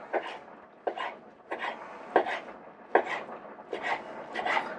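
Streaky cured bacon is sliced finely with a knife on a board, about six evenly spaced rhythmic cutting strokes, each a short rasping slice that ends in a soft tap, heard up close with no voices.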